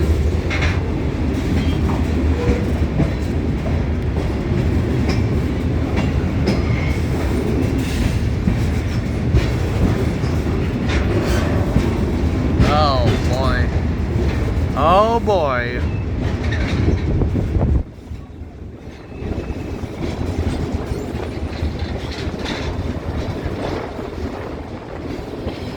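Passenger train on a mountain excursion ride rolling along the rails, a loud continuous rumble with rattling and squealing wheel sounds, briefly dipping then resuming; a person speaks a couple of words over it.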